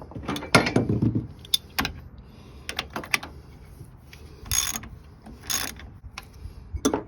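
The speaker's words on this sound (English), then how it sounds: "Next, I'm going to take these 2 bolts out, the caliper bolts." Removing brake caliper bolts on a Ford truck axle: scattered metallic clicks, clanks and ratchet-like rattles from handling tools and bolts, irregular and close, with a couple of brief bright bursts.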